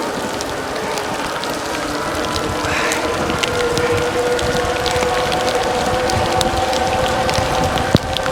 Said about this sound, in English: I thought the rain was gonna hold off for a little while